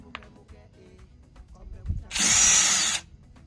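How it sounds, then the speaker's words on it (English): A power drill removes a screw from a car door in one short, loud whirring burst lasting under a second, preceded by quiet handling clicks and knocks. "Now I'm gonna go ahead and remove these two screw."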